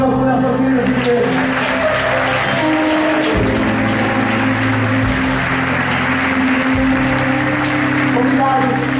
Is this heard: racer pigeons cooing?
no